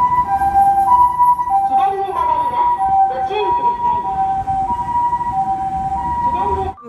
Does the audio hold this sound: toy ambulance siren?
yes